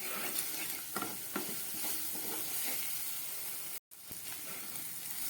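Spices with chili powder and turmeric sizzle and fry in a pan while being stirred: a soft, continuous hiss broken by faint scraping strokes, with a brief silent gap near the end.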